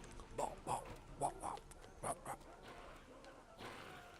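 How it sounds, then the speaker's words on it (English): Several dogs bark and yip in short bursts in Call of Duty World at War Nazi Zombies on the Nacht Der Untoten map, about six sharp barks spread over the clip at moderate distance, with faint game ambience between them. "Sounds like dogs there, like."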